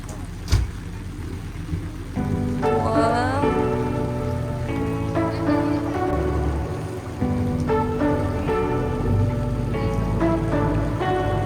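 Steady rain pattering on a trawler boat out on blue water near Puerto Rico, a continuous close hiss with a low engine-like drone and tonal hum layered beneath throughout.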